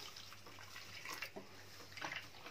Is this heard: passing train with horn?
no